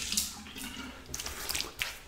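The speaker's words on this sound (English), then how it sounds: "Final rinse of the razor and a cold water rinse to the face." Tap water running and splashing over a metal safety razor during a final rinse at a bathroom sink, a soft continuous flow with a few brighter splashes and drips, close by and fairly quiet.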